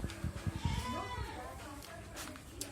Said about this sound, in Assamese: ক্ৰছ ছাগাল বৰ্ণশংকৰ ছাগলী